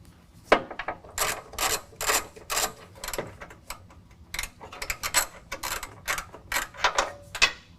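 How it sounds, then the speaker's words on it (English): A ratchet removes the 18 mm bumper nuts on a 2019 GMC Sierra 1500, clicking in quick repeated bursts with short pauses between strokes, close and clear with no talking. "We're going to need to remove those with an 18 millimeter."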